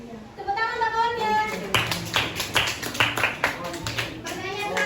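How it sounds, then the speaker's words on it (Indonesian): Children in a classroom clap for a classmate during a guidance lesson, a burst of quick, uneven hand claps following someone speaking, close and lively. "Tepuk tangan untuk kawannya."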